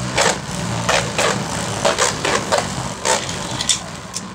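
Metal Beyblade drivers scrape against the ridge of the stadium in a series of sharp, gritty rasps and bursts that repeat irregularly over a constant low hum.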